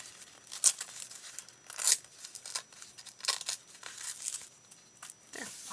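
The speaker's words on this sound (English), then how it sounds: "I want to tear it because it'll give it a little bit more rustic look" Paper torn by hand for a craft journal, giving a rough rustic edge: several quick ripping strokes, close and moderately loud, with crinkling handling noise between them and no talk.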